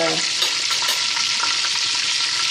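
Olive oil and butter sizzle steadily in a hot pot, a dense continuous crackle close by with no talking.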